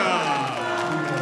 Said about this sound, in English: The Belgian contingent in the crowd celebrate noisily and enthusiastically